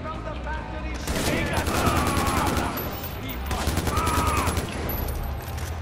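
Rapid bursts of gunfire in the video game Far Cry 4, dense volleys running steadily through the whole stretch, loud and close with a voice talking faintly underneath.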